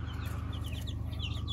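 A box of baby chicks cheep in quick, high chirps, overlapping irregularly above a steady low hum.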